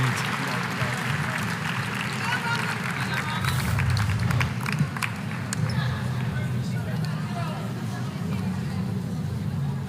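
A crowd at a women's college basketball game between Gardner-Webb and North Carolina applauds steadily in an indoor arena, a sustained wash of clapping with scattered cheers while commentators talk over it.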